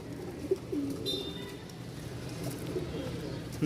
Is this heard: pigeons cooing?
yes